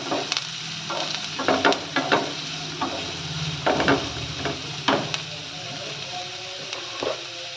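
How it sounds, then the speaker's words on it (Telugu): Carrot, capsicum and onion fry in oil while a spoon scrapes and stirs them in the pan, a soft sizzle punctuated by irregular knocking and scraping strokes, close by. "ఈ క్యారెట్, క్యాప్సికము, ఆనియన్ బాగా మనకి మెత్తబడాలి కాస్త"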